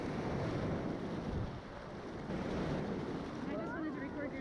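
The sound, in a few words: ocean waves at the beach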